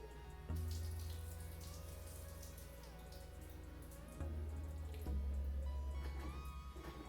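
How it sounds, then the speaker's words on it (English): Pasta water gushes and splashes into a sink in a few quiet bursts as it is strained through a lid, with a low rushing flow and faint dripping in between. "I'm going to strain it, holding the lid on top over the sink, and you'll see the water come out."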